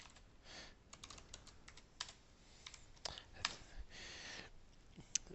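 Typing on a computer keyboard, bursts of quick soft key clicks with pauses between, close and quiet, with no speech.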